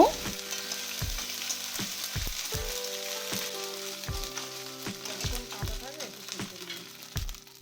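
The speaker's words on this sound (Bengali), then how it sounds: "1/3 চামচ কালো জিরে ফোড়ন দিলাম, 1 চামচ আদা বাটা দিলাম। 1 মিনিট ভেজে নেব।" Nigella seeds and ginger paste sputter in hot oil, a bright continuous sizzle punctuated by repeated dull knocks and taps of a utensil against the pan, close and fairly loud with no talk.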